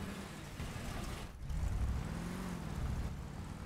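A combat vehicle rumbles along in Crossout, its engine a steady low drone with small rises and dips, heard up close with no talking.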